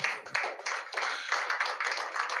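Scattered clapping from an audience at the 2023 Nigerian election results collation centre, a thin patter of hands acknowledging three chairmen, fairly close and uneven for a couple of seconds.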